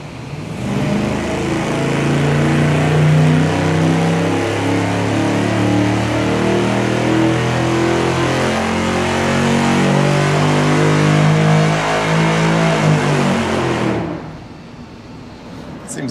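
An engine runs hard on a dyno through cheap $40 Chinese MagnaFlow knockoff straight-through mufflers, producing a loud, sustained droning roar that holds steady for about fourteen seconds before cutting off abruptly.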